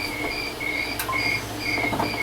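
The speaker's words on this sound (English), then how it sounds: "How are there crickets in the middle of the dried up lake bed?" Crickets chirp in repeated high trilling bursts across a dried-up desert lake bed, steady and fairly close, with no voices.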